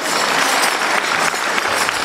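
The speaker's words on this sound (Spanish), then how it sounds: "que le damos un aplauso bien fuerte" A crowd at a live event in Corrientes breaks into steady, dense applause that fills the whole stretch at an even, loud level with no pauses.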